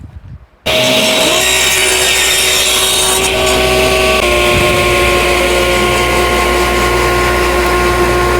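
A power saw cuts a 45-degree bevel across the bottom of a wooden table piece, starting abruptly with a loud, sustained whine and gritty rasp of blade through wood, a steady tone shifting slightly partway through the cut.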